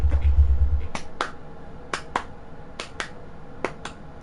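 A lone person claps while watching an MLB The Show 26 World Series game, giving sharp, close hand claps in loose pairs, about eight in all, spaced across a few seconds after a brief low rumble.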